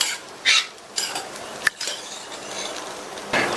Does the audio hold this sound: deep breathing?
no